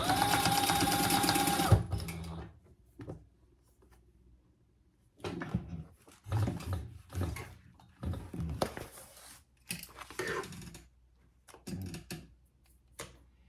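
A sewing machine stitching backpack pieces runs in a loud, steady burst for under two seconds, followed by scattered handling knocks and rustles of fabric at close range.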